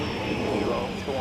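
A Delta airliner touching down on a runway at MSP airport in winter: a continuous, loud roar of engine and rolling noise, steady with no distinct breaks, over a short stretch.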